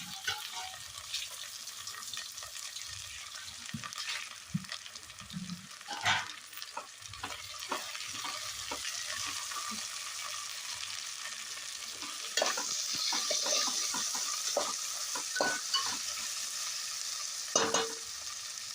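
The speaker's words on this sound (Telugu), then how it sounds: "ఆలుగడ్డ, క్యారెట్ ఇవన్నీ వేసుకొని మళ్ళీ కాసేపు వీటిని ఫ్రై చేయాలి." Potato and carrot pieces frying in a pan for vegetable biryani, giving a steady sizzle close up. Repeated scraping and clinking of a spoon comes through as the vegetables are stirred.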